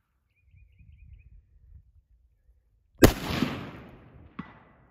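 A single 6.5 Creedmoor rifle shot fired toward a 350-yard target, a sharp loud crack with a rolling decay, followed about a second later by a fainter distant impact report after low rustling.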